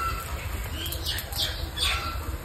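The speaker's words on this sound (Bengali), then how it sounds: "আমি কবুতরের ঘরে কবুতর দেখা শোনা থেকে শুরু করি" Pigeons flap their wings in several brief fluttering bursts against a constant low background hum.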